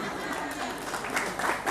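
Audience applause at a religious gathering commemorating Nuzulul Qur'an, moderate clapping that swells toward the end, with a voice talking over it.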